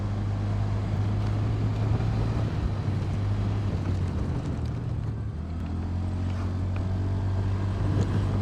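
A 2026 Honda Dio 125 scooter revs and pulls away on a test ride, with a steady, close engine drone under heavy wind rush that holds throughout with no talk.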